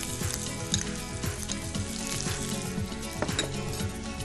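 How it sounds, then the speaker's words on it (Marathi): Chopped ginger and chilies sizzle steadily while frying in a pan, a close, continuous crackle with occasional louder pops and stirring, and no talking. "छान मिरची भाजल्यानंतर ह्याच्यामध्ये आपल्याला हे मी चिरून घेतलेलं आलं आहे"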